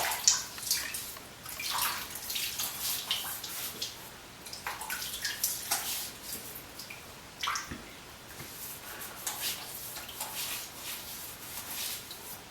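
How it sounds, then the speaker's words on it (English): Water splashed onto a face by hand before a shave with a restored safety razor, soft irregular wet splashes and drips up close, with no talking. "I'm going to take the bloom water and add it to my face."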